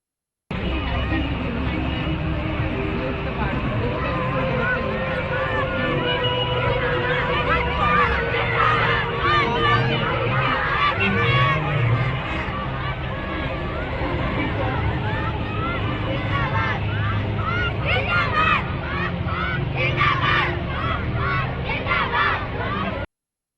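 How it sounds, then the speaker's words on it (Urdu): Schoolgirls chant slogans as a crowd, many voices rising together in steady, loud rhythmic shouts that carry on for the whole stretch. "ویڈیو میں سکول کی بچیاں 2 نعرے لگا رہی تھیں"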